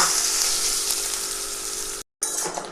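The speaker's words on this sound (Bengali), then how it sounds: "নারকেল কোড়াটা দিয়ে ফোড়নের সঙ্গে ভালো করে 2 থেকে 3 মিনিট ভেজে নিয়েছি।" Grated coconut fries in a hot pan with tempered spices for a vegetarian taro-leaf dish, giving a steady, bright hiss and sizzle that cuts out briefly and then resumes with light scraping from stirring.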